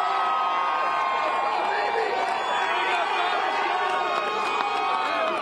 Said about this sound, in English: people are still finding a way to gather and celebrate right here outside the Garden